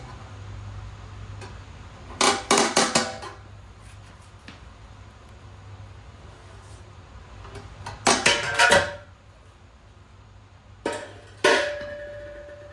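Screwdriver prying the wheel covers off a 1965 Ford Mustang, giving three separate bursts of metallic clanks and rattles with quiet pauses in between, close up, with a low steady hum underneath.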